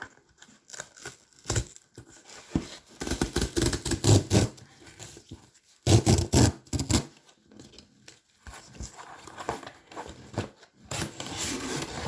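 Crinkling and tearing of plastic packaging as a Zalando parcel is opened, close-up rustles and rips in irregular bursts with brief pauses, no talking.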